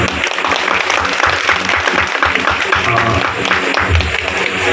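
A crowd claps steadily and loudly at a Durga Puja gathering, a dense, continuous wash of applause that fills the whole stretch with no pauses.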